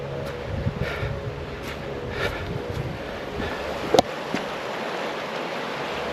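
A river rushes steadily in the distance outdoors on a hillside, a broad continuous wash with faint wind, a few light knocks and one sharp click, no voices.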